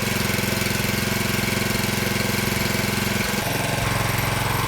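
A small engine on a log splitter, just started for the first time, chugs at a steady rapid idle with a regular pulsing rhythm, close and loud, shifting slightly in tone partway through.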